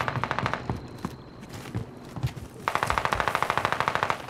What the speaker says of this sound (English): Somebody shooting him.